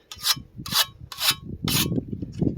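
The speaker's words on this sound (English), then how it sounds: "You need to sharpen the blade." A sharpening stone rasps along a scythe blade in four or five quick, rhythmic strokes, close and crisp, with no talking.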